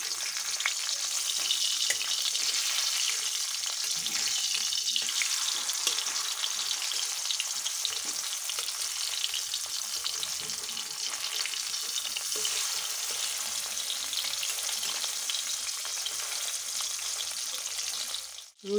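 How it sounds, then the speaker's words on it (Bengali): Rohu fish pieces frying on their second side in oil, a steady, even sizzle holding close and unbroken for nearly nineteen seconds, with no voices. "এবার আমি অপর পিঠটা ভেজে নেব।"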